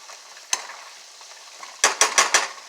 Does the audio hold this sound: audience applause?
no